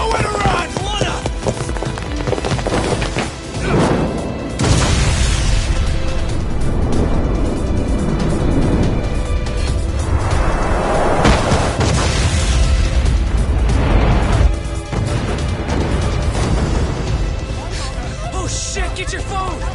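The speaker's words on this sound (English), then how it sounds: "This ship just exploded!" Ship explosion in the Lost Judgment video game on PlayStation 5: a loud booming blast bursts out around five seconds in amid continuous dense game noise, with further rumbling surges later, while voices shout throughout.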